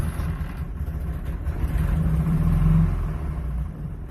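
A Honda 600 sedan engine idles close by, a steady low throbbing rumble with a slight swell in the middle, no talk over it.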